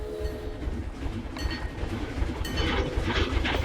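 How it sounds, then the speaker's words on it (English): A small park train at a zoo rolls steadily along its track with a continuous low rumble and faint rhythmic clatter, fairly close and without speech. "So the train goes up."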